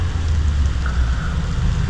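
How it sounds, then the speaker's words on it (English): Heavy rain during Hurricane Yaku in Ecuador, a dense, steady, close hiss of rainfall with low rumble underneath, continuous throughout. "it is raining quite heavily"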